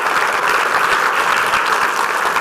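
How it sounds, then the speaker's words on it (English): A room full of people gives students at a soybean reception another round of applause, steady dense clapping filling the whole moment, loud and close, with no speech over it. "How about another round of applause for these incredible students?"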